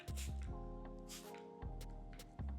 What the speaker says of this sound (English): And I'm spraying heavily just so we can see if there is any iron particles.